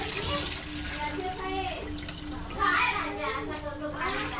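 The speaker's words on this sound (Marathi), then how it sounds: "आता त्यात टाकायचंय पाणी" Water is poured into a cooking pot at a family gathering, a close steady splashing and gurgling heard under a continuous stream of chatter, with voices overlapping throughout.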